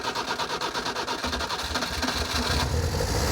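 A Porsche 911 Carrera barn-find engine fires on its original fuel pump, a rough mechanical churn that swells louder and heavier toward the end, close and steady without talk.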